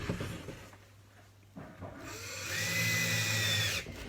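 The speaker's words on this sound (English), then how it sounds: "I'm going to screw them in, drop it back again down into low gear." A power drill in low gear drives screws into a wooden workshop window frame, with a short whir, a pause, then a longer steady whine of the screw seating, close and fairly loud.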